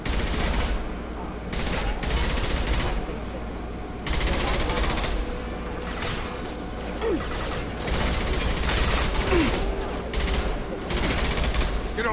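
Bursts of rapid automatic gunfire from a PS4 shooter game come in dense, loud volleys with short pauses between them, and a player talks over the shooting.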